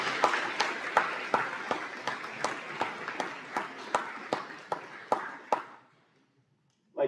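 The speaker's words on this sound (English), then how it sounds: "A round of applause, please," A school awards evening audience applauds steadily, with a dense crowd of clapping hands and a few sharper individual claps. The sound lasts several seconds, then fades out quickly and leaves near silence.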